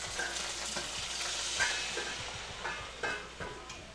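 Liquid poured into hot oil and butter with asparagus in a pan, giving a steady loud sizzle and frying hiss with occasional stirring clatter, close up and without talking.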